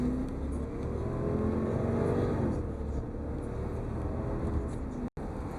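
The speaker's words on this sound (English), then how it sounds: "this car just moves. The acceleration is effortless, it's smooth, transmission shifts perfectly" A 1999 Lexus LS400 pulls away from a stop, its engine a steady, smooth hum with rising whine, heard from inside the cabin at even loudness, ending in a brief dropout near the end.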